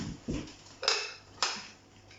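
A spoon scraping and tapping in a pan of corned beef hash, three brief close clinks spaced apart over a quiet background.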